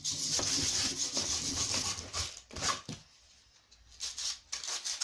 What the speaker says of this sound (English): so that's the stocks rubbed down